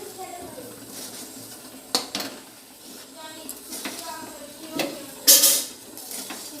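Semolina and flour dough being kneaded with milk in a dish, sounding as soft wet working with a few sharp clinks and knocks of utensils against the dish, fairly close.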